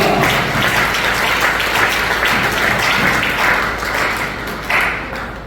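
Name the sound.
congregation applauding in church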